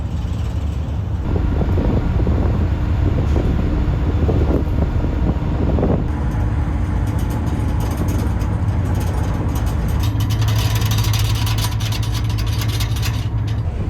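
Strong wind buffets the microphone at a rough ferry crossing with whitecaps, a loud continuous rushing roar over a low engine rumble, with no voices.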